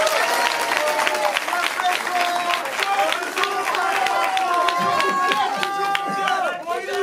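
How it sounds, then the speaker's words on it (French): A crowd applauds steadily, dense clapping filling the room, while a voice speaks over it near the end. "Applaudissez pour eux, s'il vous plaît."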